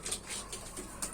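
Pet pigeons, some sitting on eggs, coo softly and close by in a quick, faint burst of low throaty calls.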